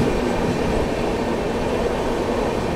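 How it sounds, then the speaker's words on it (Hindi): The 20801 Magadh Express passenger train running at speed, a steady loud rumble of wheels on rails with a continuous rushing roar and no talk. "बहुत ही अच्छी रफ्तार में अपनी मगध एक्सप्रेस चलती हुई।"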